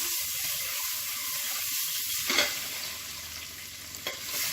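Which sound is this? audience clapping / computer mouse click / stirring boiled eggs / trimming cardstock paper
stirring boiled eggs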